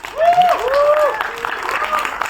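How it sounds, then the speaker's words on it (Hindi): An audience at a Jatt & Juliet 3 trailer event with Diljit Dosanjh applauds, with loud rising and falling cheers and whoops riding over a thin patter of clapping. "इनके लिए बहुत सारी तालियां होनी चाहिए"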